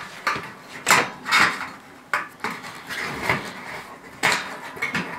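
Metal plasterboard frame rail is cut on one side and then the other, a run of sharp metallic snips and clacks in uneven bursts, close and fairly loud with no talk.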